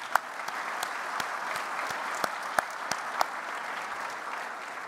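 An audience at a public event on Ontario energy gives a round of applause, steady dense clapping throughout with a few sharper individual claps standing out, no voices over it.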